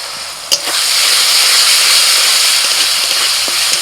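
Onion, ginger, garlic and green chili paste fry in oil in a pan for an egg curry, giving a steady, loud sizzling hiss. A brief clatter sounds early on, then the sizzle runs unbroken.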